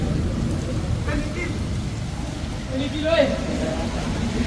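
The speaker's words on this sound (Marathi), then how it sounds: "पाऊस असा आहे का थांबायचं नावच नाही घेत पाऊस असा पाऊस आहे" Steady heavy rain hisses throughout on a pilgrimage walk from Sinnar, Maharashtra, a dense continuous wash with a few faint sounds poking through.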